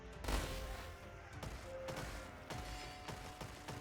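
Massed hand cannons fire in a video game strategy battle, a dense run of sharp gunshot-like cracks repeating at irregular intervals over a steady noisy backdrop of battle ambience.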